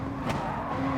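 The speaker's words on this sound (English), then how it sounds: "this Porsche has spun out due to my pressure" A Porsche spinning out during a Gran Turismo race, with a steady engine drone, a brief burst of tire noise early on and a tone that shifts near the end, no talk.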